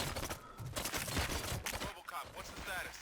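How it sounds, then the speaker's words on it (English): Gunfire in the video game RoboCop Rogue City, a quick rattle of shots in dense bursts, fairly loud in a busy mix, with a voice speaking briefly over it. "Gunshots? What's going on?"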